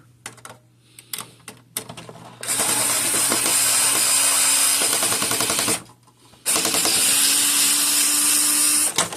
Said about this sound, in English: There's my electric screwdriver.